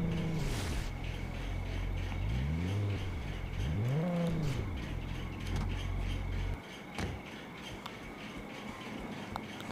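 Car driving in the Gangstar New Orleans open-world game, its engine revving in rising and falling sweeps before cutting out as it parks, leaving quieter background hum.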